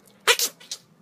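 A single short, breathy burst made by a voice imitating a girl's sneeze, followed by a fainter puff or two, close and alone.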